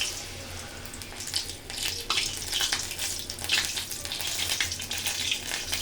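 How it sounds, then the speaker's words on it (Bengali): Cauliflower pieces frying in a pan, a steady hissing sizzle with crackling spurts rising and falling, heard alone at moderate level. "আমি সেগুলো ভেজে নিব একে একে"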